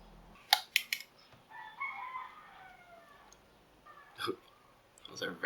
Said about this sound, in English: Those are very loud chickens.